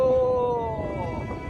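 A dog howling for help in the middle of a raging river, one long drawn-out tonal howl that slowly fades against a rushing water background.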